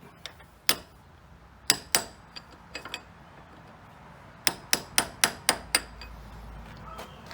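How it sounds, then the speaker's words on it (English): A hammer lightly tapping a chisel against the steering head nut of a Gen 1 Kawasaki KLR 650: sharp metallic taps in small groups, a few early ones then a quick run of six evenly spaced strikes, close and alone. "you can just stick the chisel in and lightly tap it"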